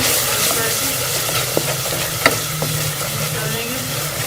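Tomatoes and spices stirred and fried in a pan, a steady close sizzle with a few sharp scrapes of the spoon against the pan.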